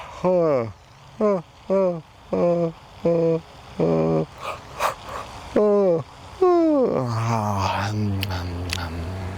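A voice repeatedly imitates yawning during an evening qigong routine: a series of short, sighing yawn sounds in a rhythmic sequence, then a longer, drawn-out yawn near the end.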